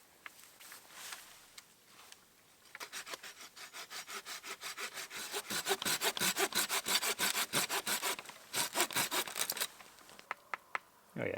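A hand saw cuts through dry deadwood for firewood at a forest bushcraft camp, rhythmic rasping strokes that start slow, then speed up into a fast steady back-and-forth before trailing off into a few last strokes.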